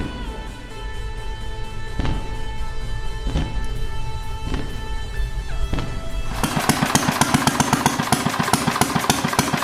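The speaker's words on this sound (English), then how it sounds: "run the engine on gasoline for me because I wanted to see a brighter flame" A gasoline engine running steadily with a dense mechanical rumble and periodic thumps, then picking up into a faster, louder rapid firing chatter near the end, with no talk.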